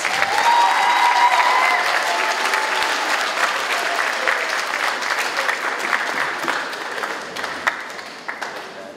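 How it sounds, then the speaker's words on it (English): A school auditorium audience at a spring middle-school band concert gives parents a sustained round of applause, loud at first and slowly thinning over several seconds, with no speech. "So students, would you please give your parents a round of applause?"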